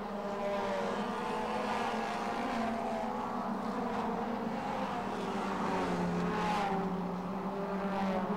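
Short track race cars running at Rockford Speedway during an American Short Trackers heat, a steady dense engine roar with sustained droning tones and a gentle swell as cars pass, loud and continuous throughout.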